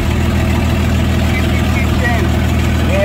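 A car engine lugging in too high a gear, a low, labored droning rumble that holds steady and heavy, heard from inside the car with faint background noise.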